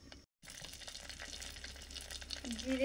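Cumin seeds frying in hot mustard oil in a clay pot give a soft, close sizzle and crackle that holds steady after a brief silence, faint overall.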